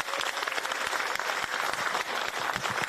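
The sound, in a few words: applause at a farmers' meeting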